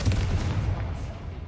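A Confringo blasting spell explodes in Hogwarts Legacy, a loud low boom at the start that rumbles and decays over a second and a half, with no talking.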